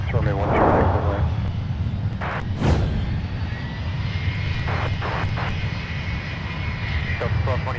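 Airliner engines roar steadily at Minneapolis–Saint Paul airport, a loud continuous rumble near the runways, with radio chatter and a commentator's voice heard over it.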